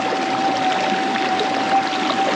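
Steady broadband rush of stream water flowing continuously around a prospector searching the streambed with a detector, close and fairly loud, with no voices over it.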